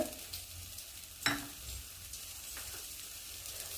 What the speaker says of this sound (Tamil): இப்போ எண்ணெய் சேர்த்துக்கிறேங்க. வரமிளகா சேர்த்துக்கிறேங்க.